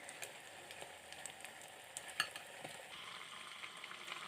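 Sliced okra (bhindi) fries gently in a pan over a low flame, a soft, steady sizzle with light stirring clicks and one brief utensil tap.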